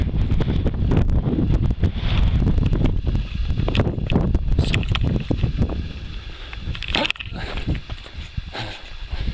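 Wind blows across the summit of Middle Moat Mountain, roaring and buffeting the microphone loudly and continuously, easing slightly toward the end.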